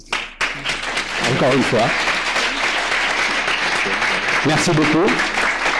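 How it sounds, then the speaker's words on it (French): Audience applause at a business management forum's closing session: a dense, steady clapping that swells and holds loud throughout while someone speaks over it. "Je vais d'abord vous applaudir."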